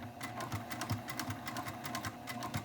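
A sewing machine stitches through a bulky fabric sling near a D-ring, its needle chattering in quick uneven bursts with short pauses, steady and close with no talking.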